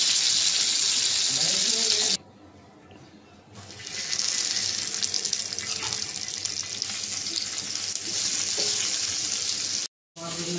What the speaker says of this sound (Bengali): আরও মাছ বাকি আছে, এটাও ভেজে নেব।